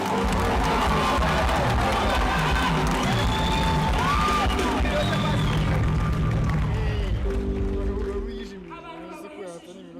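A large concert crowd claps and cheers at a live gospel music event, loud, dense and continuous before fading away near the end, with a voice speaking over a microphone.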